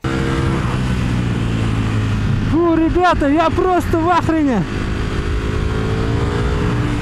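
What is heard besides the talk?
Ducati Panigale V4 motorcycle engine revving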